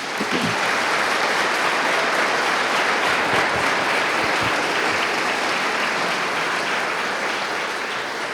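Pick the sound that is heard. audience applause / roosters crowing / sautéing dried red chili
audience applause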